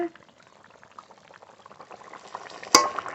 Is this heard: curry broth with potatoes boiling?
yes